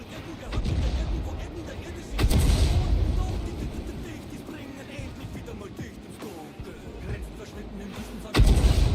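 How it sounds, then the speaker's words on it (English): SU tank cannon fire in World of Tanks: several heavy, booming shots spaced seconds apart, each followed by a rumbling decay, with someone talking over the gunfire. "Now the SU is shooting at me."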